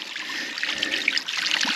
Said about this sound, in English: Look at this, amount of water pouring out of there.